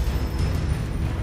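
Blasting-spell explosion from Hogwarts Legacy, a loud, rumbling burst of low booming noise filling the short moment without pause.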